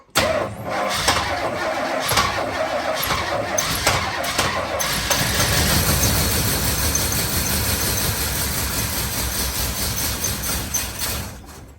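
A 1985 Chevy Suburban C20 engine cranks with a squealing whine, catches and starts, then settles into a loud, rough running roar close by for the rest of the stretch.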